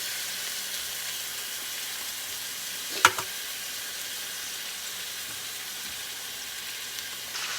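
Meat sears in a hot pan to build a crust, giving a steady, even sizzle at moderate level with one sharp clatter partway through.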